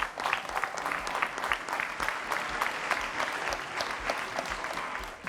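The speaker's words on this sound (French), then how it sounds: "Ça s'applaudit le public." A studio audience claps steadily throughout a kids' variety show, dense and sustained applause with no voices over it.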